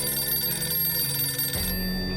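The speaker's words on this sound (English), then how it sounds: "Phone call. Pick up the phone" A telephone rings in the survival video game 60 Seconds, a steady electronic ringing tone heard alone and fairly loud, stopping near the end.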